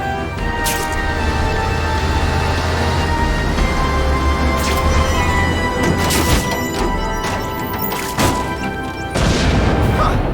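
A dense stream of crashing, booming blasts and impacts from The Amazing Spider-Man 2 video game rolls on continuously over a rumbling background, loud and close, with no talking.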